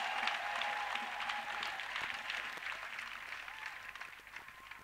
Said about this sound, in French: Let's give a round of applause to Jesus.